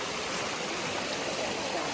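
Katiki waterfall in Araku, with freezing water pouring off the hills, makes a steady, soft rushing hiss with no change and no voices.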